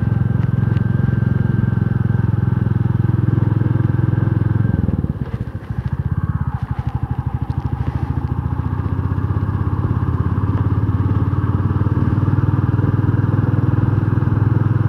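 A motorcycle on a ride, its engine loud and close with a steady droning rumble, a brief dip and rattling clatter partway through, then the even roar resumes with wind noise.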